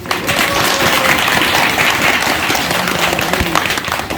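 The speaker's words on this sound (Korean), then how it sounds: "여러분 자신에게 박수 한번 쳐주세요" Audience applause at a Buddhist temple pilgrimage talk: dense, steady clapping from a large crowd, sustained throughout without speech.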